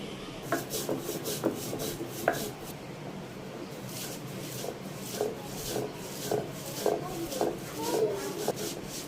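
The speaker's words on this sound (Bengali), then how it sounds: "আমি এখন চিংড়ি মাছটা ভর্তা বানিয়ে নেব" Shrimp and chili being mashed by hand for a Bengali bhorta give off close, steady rubbing and scraping, a rough grinding rhythm with soft squelches and occasional knocks.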